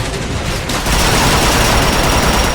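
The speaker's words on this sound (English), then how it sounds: "Just keep firing!" Dense, continuous gunfire in the video game Transformers: Fall of Cybertron, a loud unbroken barrage of rapid shots that swells after the first half-second and holds steady to the end.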